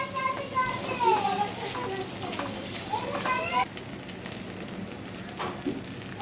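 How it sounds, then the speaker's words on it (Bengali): Masala fries in butter for a chicken roast with a steady close sizzle and occasional stirring scrapes, while a person talks over it for much of the time. "তো দেখো বাটার দিয়ে এবার আমি ভালো করে এটা ফ্রাই করে নিচ্ছি।"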